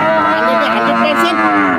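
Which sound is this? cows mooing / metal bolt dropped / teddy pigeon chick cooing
cows mooing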